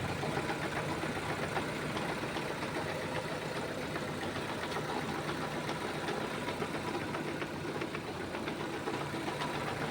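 A 2012 Proton Persona with a 1.6 engine and manual gearbox idles steadily for the whole stretch, a smooth, even, low rumble with faint ticking, heard close and with no one talking.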